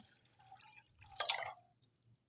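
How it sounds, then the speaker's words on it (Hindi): Plain room-temperature water is poured over chana dal set to soak. A soft, close splash and trickle swells briefly in the middle, with faint drips before and after. "नॉर्मल पानी डाल देते हैं"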